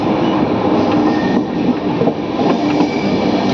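A train runs along a railway track with steady rolling rumble and faint clickety-clack of wheels, loud and continuous throughout, with no talking.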